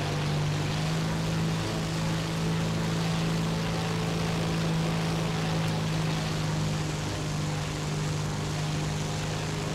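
Tupolev ANT-40/SB bomber engines in War Thunder during aerobatics: a steady, loud, droning propeller roar with a constant low hum, unbroken throughout.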